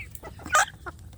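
Adult free-range village chickens at feeding time give short clucks and one louder squawk nearby, brief scattered calls over a low background hum.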